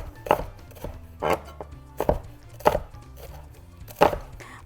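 A knife chops vegetables on a board for spelt pilaf: five crisp, evenly spaced cuts, close and clear, with quiet pauses between them.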